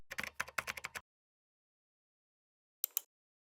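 Rapid keystrokes on a computer keyboard entering a username and password at a login page, a dense burst of close clicks for about a second, then silence before a final pair of key taps.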